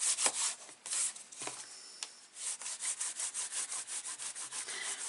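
Hand rubbing across a stamped paper card, a series of brisk dry scuffing strokes, close and fairly loud, settling into an even back-and-forth rhythm.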